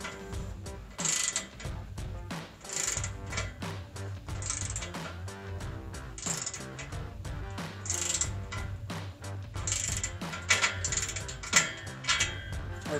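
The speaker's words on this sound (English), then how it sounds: "Put my 15 millimeter socket on. And we're going to crank this clamp down to 15 to 45 foot-pounds." A 15 mm socket on a ratchet wrench cranks down an exhaust clamp on a 2017-2022 Ford F-250 with an MBRP Armor Lite filter-back single exhaust, close, rapid ratcheting clicks in repeated bursts over a metallic background.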